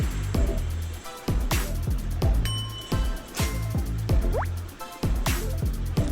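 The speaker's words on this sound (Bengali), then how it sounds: "জল দিয়ে দেবো এক চামচ লবণ দিয়ে দিচ্ছি" Water poured into a pan of fish curry with rui fish, potato and yardlong beans, heard as repeated splashing drips and bursts of liquid in a close, busy rhythm without talk.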